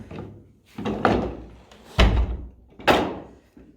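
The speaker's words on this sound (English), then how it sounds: "See, it's just a fun, overcomplicated latch, that's all." A 101-year-old double door's elaborate latch is worked by hand, giving several heavy wooden thunks and clunks at irregular intervals, close and fairly loud with short ringing decays.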